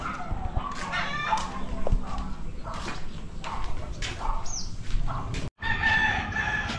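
Farm birds roam nearby, with chickens clucking and a rooster crowing amid scattered outdoor rustling and a brief gap near the end.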